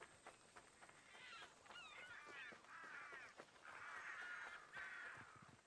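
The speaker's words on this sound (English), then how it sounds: "God, there's a lot of crows." Crows caw repeatedly in Assassin's Creed Odyssey near a vineyard, a flock of harsh calls overlapping at a moderate distance over a quiet outdoor ambience.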